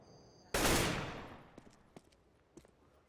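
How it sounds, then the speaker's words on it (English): A single loud gunshot in CS:GO rings out during a tournament round and decays with a long echoing tail, followed by a few faint clicks and footsteps. "CTs should have heard the gunshot, but did they?"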